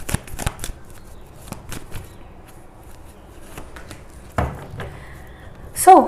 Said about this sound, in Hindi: फेरी से, एंजल से, सबसे मैं कार्ड निकालती हूँ।